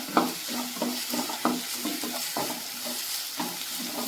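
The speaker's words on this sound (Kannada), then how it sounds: "ಈರುಳ್ಳಿ ಸ್ವಲ್ಪ ಉಪ್ಪು ಹಾಕ್ಕೊತಾ ಇದ್ದೀನಿ." Onions fry in oil for a samosa filling, a steady close sizzle broken by rhythmic scrapes and knocks of a spatula stirring the pan several times.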